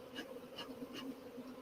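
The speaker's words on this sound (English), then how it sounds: "if the bees are happy, they won't sting me" Bees buzz around a beehive in a soft, continuous drone that pulses slightly, sounding close but fairly quiet.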